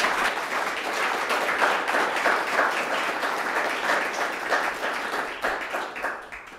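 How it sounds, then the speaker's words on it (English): Audience applause after a retail and buyer power panel speaker, a continuous dense round of clapping from a seated crowd that tapers off at the end. "Can we give a round of applause to Angela?"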